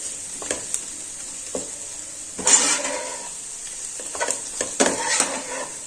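Stuffing masala for Kathiyawadi stuffed rotlo is mixed in a bowl by hand, giving soft scraping, clinking taps and brief rustling bursts, quiet and close, with no talk.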